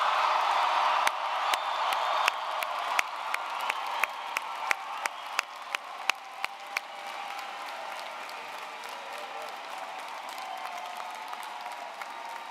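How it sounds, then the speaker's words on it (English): Large commencement crowd applauding and cheering for the graduating class, dense clapping with sharp claps standing out early, then a steady sustained roar of clapping continuing to the end. "Let's give the new graduates another round of applause."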